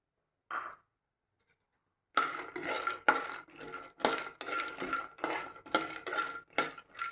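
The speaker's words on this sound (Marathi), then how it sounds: "कढईमध्ये आपण अर्धा चमचा आपण तूप टाकूया आणि इथं शंभर ग्रॅम आपण बदाम घेतलेत चांगले भाजून घेऊया मध्यम गॅसवरती" Almonds roasting in ghee in a kadhai over medium flame, a brief clink, a pause, then rhythmic scraping and rattling strokes of a spatula against the metal pan, each stir distinct and close.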